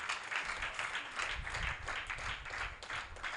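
A church congregation claps and applauds together during a worship service. The sound is a dense, steady wash of many hands clapping at once, filling the whole stretch with no pause.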